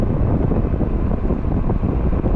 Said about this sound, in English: Now we're going into the wind.